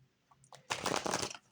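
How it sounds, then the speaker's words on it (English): Tarot cards shuffled by hand, a soft riffling burst of papery flutter lasting under a second after a few faint taps, close and clear with no talking. "Two more shuffles."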